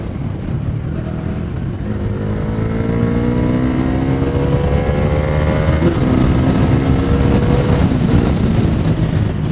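Bajaj Dominar 400 motorcycle cruising in gear, a steady engine drone whose pitch climbs in smooth sweeps as it pulls along, with constant wind rumble and no voices.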